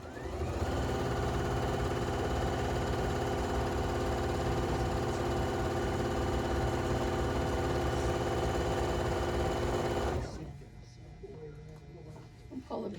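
A sewing machine stitches a mitered corner on a quilt, a steady continuous whir for about ten seconds that stops abruptly, leaving quiet room noise afterward.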